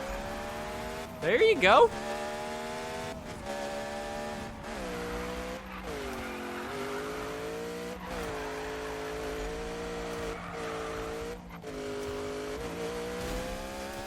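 Tire squeal from a drift car in Need For Speed, a short sharp screech rising over a steady, droning engine that runs throughout, with someone talking over it.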